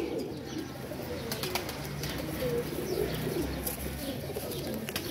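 Faint cooing from flying pigeons kept for a pigeon-flying competition sits in a steady, noisy background, with a few soft clicks and rustles.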